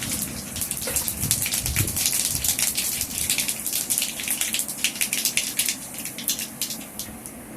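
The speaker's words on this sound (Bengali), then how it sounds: "তেলটা গরম হয়ে গেছে। এবার আমি এতে 1 চামচি মতন কালো সর্ষে ফোড়নে" Black mustard seeds sizzle and crackle in hot mustard oil, a dense, steady spitting hiss with quick pops, close and fairly loud, with no voices.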